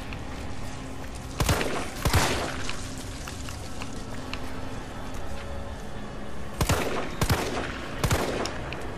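Shotgun blasts in the Resident Evil 3 Remake video game: a pair of loud booming shots early on, then three more in close succession near the end, each with a sharp attack over steady game ambience.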